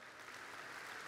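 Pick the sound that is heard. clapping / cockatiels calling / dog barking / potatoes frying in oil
clapping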